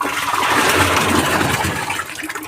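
Water pours steadily in a loud, continuous gush while making jeevamrutham, a farm mix of cow dung, cow urine and water, with no voices.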